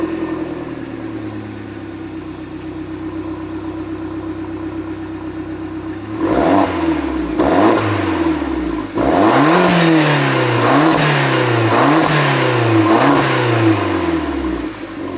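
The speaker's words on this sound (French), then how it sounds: "on va s'écouter quand même le petit son de l'échappement là" A Fiat Punto Abarth Evo exhaust idles close by, then barks through a string of about six sharp revs, each rising and falling quickly, with no talking.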